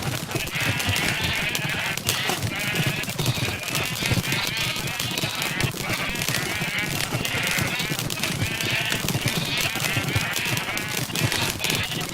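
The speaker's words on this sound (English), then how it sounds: "Yeah, I have no idea how many sheep I got in there." A crowd of more than twenty sheep bleating in the Minecraft video game, dense overlapping bleats repeating throughout with clicking game sounds mixed in, fairly loud and continuous.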